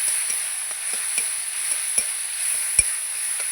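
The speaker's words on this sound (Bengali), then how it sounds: "এটা দিয়ে দেবো দিয়ে এটা একটু তেলে নেড়ে করে নেবো" A paste of green chilli and ginger is stirred in hot oil before pumpkin greens go in; a faint, even sizzle runs throughout with light, irregular spoon taps against the pan and no talk.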